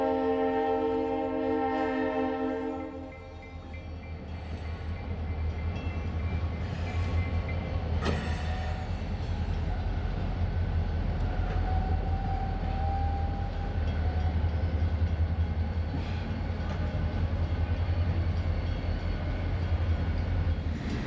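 Shortline freight locomotives idle and switch near a grade crossing, a deep steady diesel rumble with a sustained horn-like tone at the start and a sharp clank midway, heard alone.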